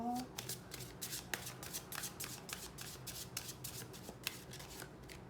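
Tarot cards shuffled by hand in a steady run of crisp riffling bursts, close and fairly quiet, with faint background noise and no voice over the cards.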